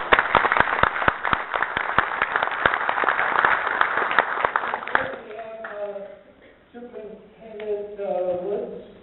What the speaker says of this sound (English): let's give everybody a nice applause.